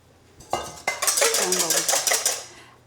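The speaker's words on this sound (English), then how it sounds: "The reason I'm scrambling it second time is more you scramble it, more you whisk it, your omelet is going to become nice and fluffy." Eggs for a Mexican-style omelet are whisked in a bowl, a run of quick, rhythmic metallic clinks and scrapes, close and fairly loud, starting after a couple of sharp knocks.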